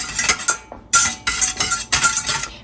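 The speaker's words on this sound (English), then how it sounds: "now we are going to heat and whisk" A whisk scrapes and clinks against a pot as a pumpkin mixture is whisked while it heats, in several quick bursts of metallic stirring, close and loud, with no voices.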